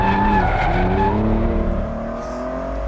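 A Ferrari supercar skids with its tires squealing loudly, a sustained tonal screech over the engine note that fades slightly toward the end.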